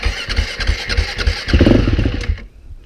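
A quad ATV engine cranks in a rapid rhythmic chug, then briefly catches with a rougher burst before cutting out into near silence, close and fairly loud.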